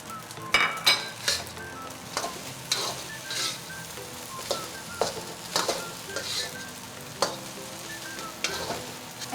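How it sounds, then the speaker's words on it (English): Egg fried rice with Chinese sausage stir-fried in a hot pan, steady sizzling broken by repeated sharp scrapes and clinks of a spatula against metal, close and without talk. "I'm gonna go ahead and add my Chinese sausage back into the dish"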